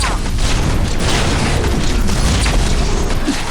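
A plasma tempest weapon fires in the VR shooter Scraper: First Strike, a loud, dense rumbling roar of bursting energy that holds steady for several seconds without letting up.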